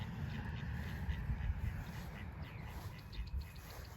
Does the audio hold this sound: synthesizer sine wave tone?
no